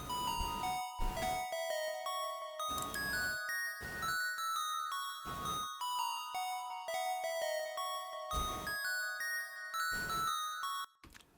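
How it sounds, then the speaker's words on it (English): Bright synth square-wave melody with some release, delay and reverb, a steady run of plucky repeated notes with echoing tails, played alone throughout. "It's a square wave with some release on it, delay, and reverb."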